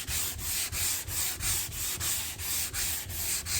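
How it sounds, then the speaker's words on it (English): Steady rhythmic sanding strokes on a Camaro car body being prepared for a metallic paint job, a rough, raspy back-and-forth scrubbing at an even pace, close and loud with no talk. "to sand that all the way out."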